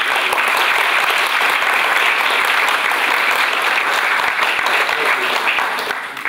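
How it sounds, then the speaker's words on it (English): Loud, dense applause fills a medical school ceremony hall as the audience claps for the staff, a continuous roar of many hands that holds steady and tapers slightly at the very end. "I really want to give the staff a round of applause"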